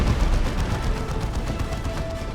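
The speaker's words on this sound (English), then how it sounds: "Good hit with the Demolisher Cannon" Demolisher Cannon fire in a Dawn of War 2 3v3 battle: a dense, continuous roar of booming blasts and gunfire with no single shot standing apart, loud throughout.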